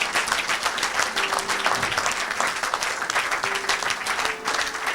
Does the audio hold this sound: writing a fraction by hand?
no